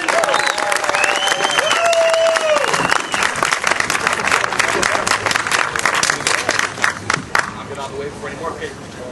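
An energetic crowd applauds Representative George Faught at an Oklahoma rally, steady loud clapping mixed with a few cheers and whistles, tapering slightly toward the end.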